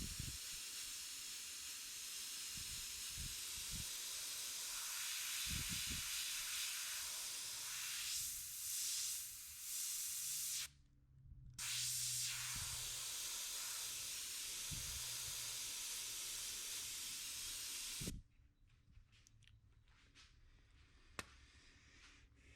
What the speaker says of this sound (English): you can lay those down with an airbrush first and then cover it up with color